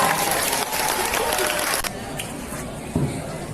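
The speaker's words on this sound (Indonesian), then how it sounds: "Tepuk tangan dulu dong" A school crowd at a student council candidate debate claps loudly for nearly two seconds, then the applause cuts off into a quieter room with scattered claps and background murmur.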